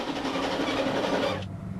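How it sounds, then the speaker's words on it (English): Passenger train rushing along the track at high speed toward a bridge, a loud steady rumbling roar with faint rhythmic clatter that cuts off abruptly near the end. "this train was doing 90 as it thundered toward the bridge"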